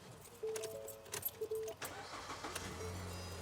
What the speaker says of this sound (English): Now I'm gonna start the engine.